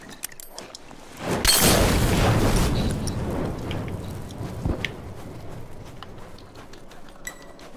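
A bomb goes off during a The Last of Us multiplayer match, a loud broadband boom swelling and rolling out over a couple of seconds, followed by lower rumbling, scattered clatter and a sharp smaller bang.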